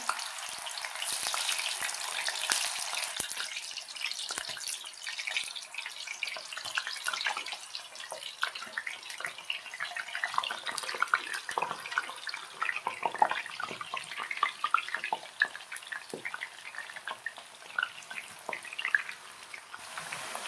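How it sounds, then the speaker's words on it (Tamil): Pieces of raw banana fry in hot oil, a continuous crackling sizzle with scattered pops that stays fairly steady throughout, without talk. "இப்போ நம்ம வாழைக்காவை பொறிச்சு எடுத்துக்கலாம்"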